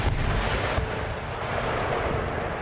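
Cannon fire from an artillery battle in the strategy game Empire: Total War, a dense continuous rumble of booms and low thuds filling the whole stretch without pause, loud and alone with no talk.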